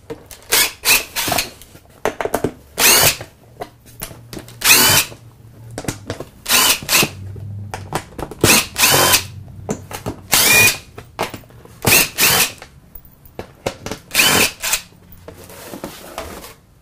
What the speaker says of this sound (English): it looks like we need a screw gun. Okay, we found our DeWalt.